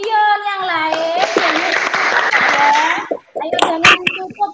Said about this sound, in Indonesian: Tepuk tangan untuk Bion yang lain.